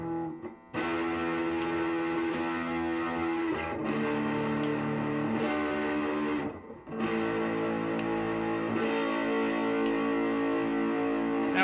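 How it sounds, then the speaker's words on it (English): Electric guitar chords with distortion played through an EART TL-380, sustained ringing strums with a couple of brief breaks between chord changes, loud and alone without talk. "when I'm playing these chords with distortion on them"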